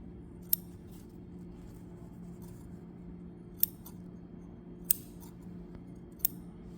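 Four sharp, separate snips of scissors trimming loose thread on a sewn backpack, close and crisp over quiet room hum.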